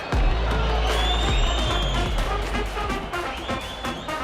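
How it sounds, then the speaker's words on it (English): Stadium crowd noise at a Chattanooga FC soccer match against Carolina Core, a loud sustained roar with scattered whistles and shouts throughout, steady and dense. "the roar of the crowd is about to reach a fever pitch"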